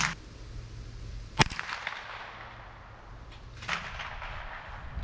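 Rossi Model 62 pump-action rifle fired at targets outdoors: two sharp cracks a couple of seconds apart, each trailing off over a steady low hum.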